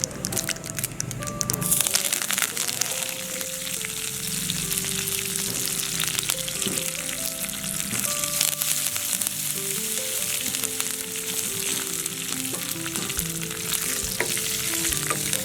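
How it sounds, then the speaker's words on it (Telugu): Mustard seeds, cumin and curry leaves sizzle and crackle in hot oil in a pan for sambar, a dense, continuous frying hiss close by, with light stirring clinks over it. "ఇప్పుడు ఒక ప్యాన్లో కొంచెం ఆయిల్ వేసుకొని కాగాక ఆవాలు, జీలకర్ర, అలాగే కరివేపాకు వేసుకోవాలి."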